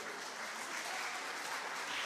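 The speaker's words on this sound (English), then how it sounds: "A round of applause for him." An audience at a national reading competition finals applauds steadily, with dense, even clapping filling the short stretch.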